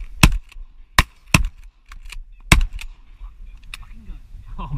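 Several sharp shotgun blasts ring out during a duck hunt at Pecan Island, loud and irregularly spaced with brief echoes and softer distant shots between them.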